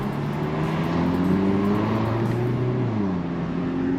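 Hyundai Elantra N with a valved exhaust, driven in normal mode with sequential shifting: a steady, fairly subdued engine drone heard from inside the car, its pitch rising and easing across the clip, with no voices.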